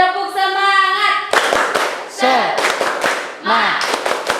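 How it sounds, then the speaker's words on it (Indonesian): A school class does a rhythmic spirit clap, sharp hand claps in quick patterned bursts answered by children's chanting voices, following a sustained musical tone. "Sebelum mulai pembelajaran, kita tepuk semangat dulu ya, biar pada semangat ya."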